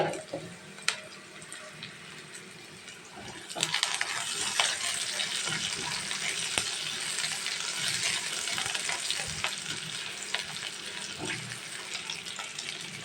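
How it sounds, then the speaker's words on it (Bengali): Onions fry and brown in a pan with fish and salt for a fish curry, a continuous hissing sizzle punctuated by scraping stirs and clinks of a spoon, close and steady without talk. "ভালো করে কষিয়ে নিতে হবে। দেখুন আমার পেঁয়াজটা বাদামি হয়ে যাচ্ছে।"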